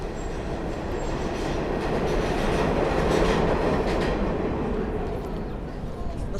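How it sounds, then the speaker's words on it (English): A New York City subway train rumbles below the street in the West Village, a steady low roar with faint clickety-clack that swells toward the middle and eases off, heard from street level with city ambience around it. "you hear the subway. Listen."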